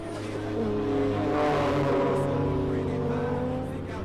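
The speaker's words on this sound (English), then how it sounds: "I really hate loud cars like that" Race cars rev loudly in a Fast and the Furious movie scene, with a sustained engine roar that swells and fades and tones that shift upward.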